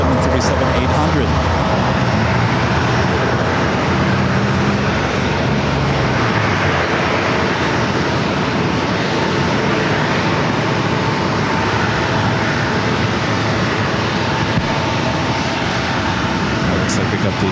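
Jet airliner engines roar steadily at San Diego airport as a Southwest Airlines 737-800 and other jets move nearby, a loud, continuous broadband rumble with a shifting low drone that persists throughout without pause.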